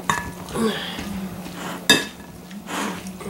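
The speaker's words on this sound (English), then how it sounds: "I'll go ahead and get my potato masher. I like to mash it up before I put it in with the soup" Cooked broccoli is mashed in a bowl with a potato masher, producing soft squelching thuds and scraping, with a sharp clink of metal against the bowl partway through, heard up close and without speech.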